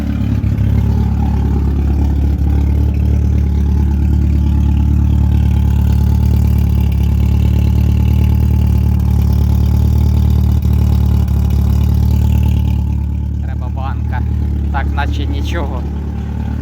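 Opel Calibra turbo engine idling with a steady low drone through its modified exhaust, loud and continuous, with some clatter near the end.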